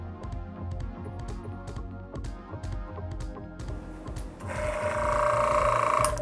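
Airbrush compressor for decorating cookies starts up and builds initial pressure, its motor whirring with rapid mechanical ticking at first, then turning into a louder, steady hiss toward the end.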